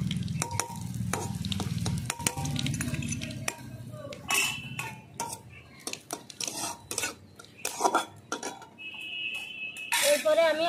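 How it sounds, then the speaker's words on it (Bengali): Mustard seeds and dried red chillies fry in hot oil with a continuous sizzle, broken by repeated clinks and scrapes of a stirring spoon against the pan, while a person talks intermittently. "সর্ষেটা আমি ভালো করে একটু লাল করে ভেজে নেবো আগে"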